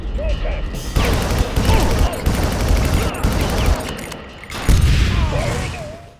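Rapid gunfire from the X29 gun in the first Far Cry video game, loud overlapping bursts and booms packed across the whole stretch with only brief lulls between volleys.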